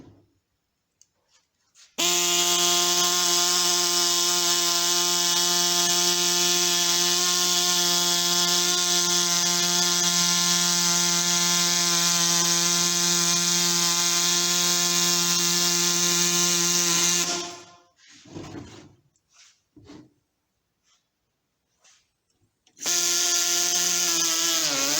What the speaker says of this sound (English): I'm going to kick on my body saw, and my air compressor will probably come on.